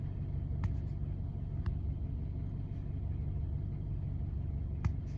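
Parked car left in drive with its engine idling, a steady low rumble heard from inside the cabin with a few faint clicks.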